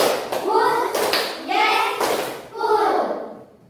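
Children clap their hands in a counting clap game, sharp claps falling in short bursts between their chanted voices, close and fairly loud.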